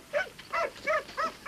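A dog barks four times in a quick, even sequence of short, moderately loud barks at close range, with nothing else heard.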